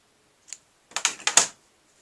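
Scissors snip through knitting yarn, one short crisp cut followed by a quick cluster of four sharp snips, close and clear against silence.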